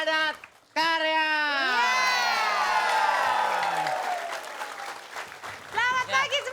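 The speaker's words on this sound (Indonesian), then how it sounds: "Tepuk tangan yang meriah untuk Padat Karya." A television comedy studio audience applauds and cheers for Padat Karya, with loud rising and falling voices calling out over a bed of clapping that eases off before a brief new burst.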